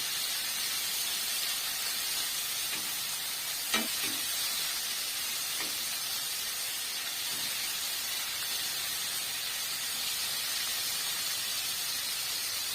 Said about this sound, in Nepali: यसरी तेलमा छोइला फ्राई गरेर मासु फ्राई गर्दाखेरि